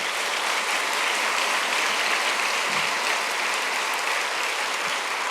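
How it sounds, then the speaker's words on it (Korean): An audience at a church gathering hosting a visit from a Cambodian arts university gives a long round of encouraging applause, a dense, even hiss of many hands clapping at a steady level with no talk. "다시 한번 큰 격려의 박수 한번 하시면 좋겠습니다."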